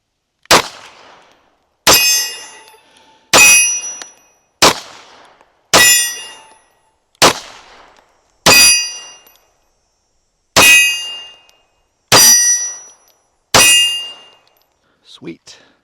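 A Girsan MC P35 9mm pistol fires about ten evenly spaced shots at a steel hostage target. Each sharp crack is followed by a bright metallic ring that fades before the next, and a faint clink closes the sequence.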